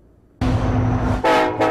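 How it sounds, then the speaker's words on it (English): A Union Pacific train at trackside: after a quiet moment, a sudden loud, close horn blast begins, followed by a second strong burst as the train rolls by. "Watch the trains."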